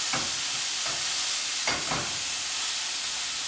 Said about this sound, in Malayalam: ചെറുതായിട്ടൊന്ന് ഫ്രൈ ചെയ്താൽ മതി, ഒരുപാട് ഫ്രൈ ചെയ്യണ്ട.